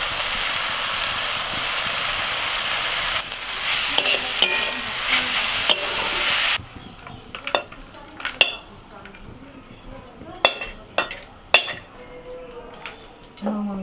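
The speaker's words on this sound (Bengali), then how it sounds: "নাড়াচাড়া করতে করতে শাকটা পুরো ভাজা হয়ে গেছে" Jute greens fry in a pan with a steady, close sizzle at first. Then come sharp, irregular scrapes and clinks as a utensil stirs and turns the greens against the metal.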